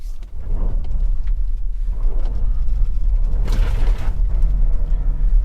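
A 2022 Toyota RAV4 plug-in hybrid with stability control off rumbles loudly on snow during an attempted donut, steady low road and engine noise with a rise in hiss and grinding midway.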